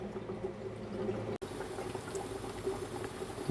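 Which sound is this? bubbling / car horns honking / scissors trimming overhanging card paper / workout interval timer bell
bubbling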